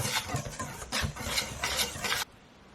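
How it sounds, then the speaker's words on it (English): Wheat germ is being whisked into banana bread batter in a bowl, making close, rhythmic swishing and scraping strokes in several bursts before stopping abruptly. "Now let's just go ahead and whisk this in."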